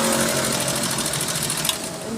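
A sewing machine runs continuously up close with a rapid, even mechanical whir and clatter, steady throughout with one small knock near the end.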